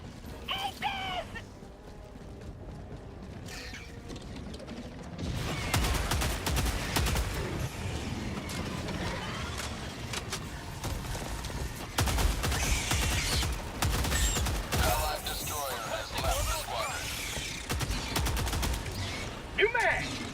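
Tenderizer gun fire in Helldivers 2 on Helldive difficulty, with loud rapid bursts of automatic fire, mechanical clatter and impacts continuing almost without pause after a quieter opening, mixed with game effects.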